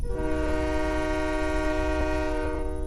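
Steam-style train whistle sounding at a railway station, a sustained, steady multi-tone blast holding loud and close for several seconds with no talk over it.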